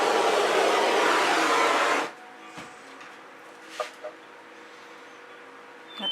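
A torch heats fluid acrylic paint with a loud, steady roaring hiss for about two seconds, then cuts off, leaving quiet room noise with a few faint clicks and taps.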